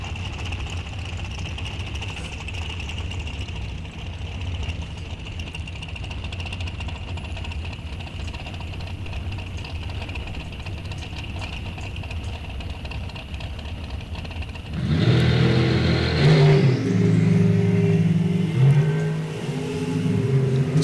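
Super Gas drag racing cars idle with a steady engine drone at a distance, then a much louder, closer burst of revving breaks in near the end and holds for several seconds.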